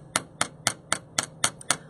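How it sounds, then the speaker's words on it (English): A chasing hammer taps metal on a bench block set on a velvet pad, planishing the piece flat: seven crisp, evenly spaced metallic strikes, close and clear, with no talking. "Notice how when I'm hammering, I strike my metal in the same place"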